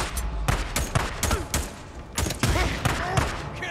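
Shotgun gunfire in the video game Days Gone, a rapid volley of loud, close blasts in uneven rhythm, about nine shots within a few seconds.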